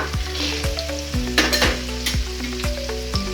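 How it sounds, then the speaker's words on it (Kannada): Peanuts and chickpeas frying in oil for a Karnataka-style poha mixture, with a loud close sizzle and regular rattling clacks from stirring roughly every half second, and no voices. "1 ಕಪ್ಪು ಕಡ್ಲಿ ಎಲ್ಲ ಚೆನ್ನಾಗಿ ಫ್ರೈ ಮಾಡೋಣ."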